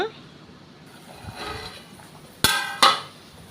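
A metal lid is set on a pot of Mangalorean tongue fish curry, giving two sharp clanks close together near the end, after some quieter kitchen handling.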